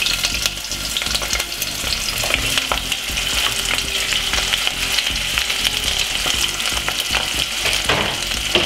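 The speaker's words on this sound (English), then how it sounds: "Just going to fry up the seasoning first." Garlic and seasoning fry in a pan with a loud, steady sizzle, broken by scraping stirs, close up and without talk.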